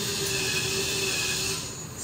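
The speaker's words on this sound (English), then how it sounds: "So I'm just gonna drill a pilot hole on each side." A power drill bores a pilot hole into wood while a custom built-in cabinet is assembled, giving a loud, steady whine that holds for about two seconds before easing off.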